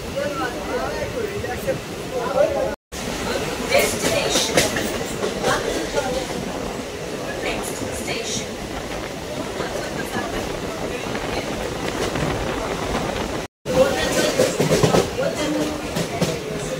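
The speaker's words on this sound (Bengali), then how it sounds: "আমাদের ট্রেন এখন কন্যাগর স্টেশনে ঢুকছে।" A suburban local train rolls into Konnagar station on the Howrah–Bandel line, its loud, steady rumble and rattle of carriages running close throughout, broken by two brief dropouts.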